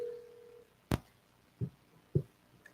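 A telephone signals an incoming call during a radio show: a short steady tone, then three sharp clicking pulses spaced about two-thirds of a second apart, faint and alone.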